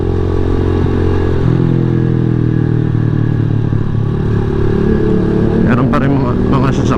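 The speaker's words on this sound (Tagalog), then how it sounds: "dito kahit madaling araw may ongoing traffic pa din" Steady road traffic at night with vehicles rolling past, a continuous engine and tire rumble that stays loud throughout, joined near the end by a brief rise of clattering and higher-pitched vehicle noise, with a voice speaking over it.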